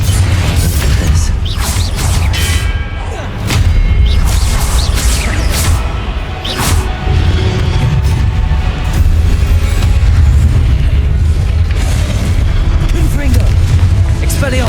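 Confringo spell blasts in Hogwarts Legacy go off as loud, repeated booms and crashes, layered thickly over continuous rumbling battle noise.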